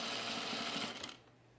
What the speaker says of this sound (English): I really am just gently holding this firm so that the presser foot doesn't push the